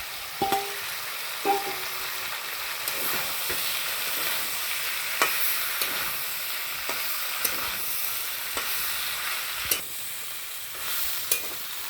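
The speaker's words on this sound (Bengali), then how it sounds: "চিংড়ি মাছ মশলার সাথে সবজিগুলো ভালোভাবে কষিয়ে নিলাম" Prawns, spices and vegetables (papaya, potato, carrot, gourd stems) stir-fried in a pan, a steady broadband sizzle with scraping stir strokes and occasional utensil clicks throughout.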